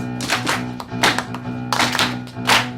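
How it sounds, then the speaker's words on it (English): A crowd of fans in the stands clapping along to a school cheer, with bursts of claps in a loose rhythm and a sustained musical tone underneath. "let me hear you clap your hands"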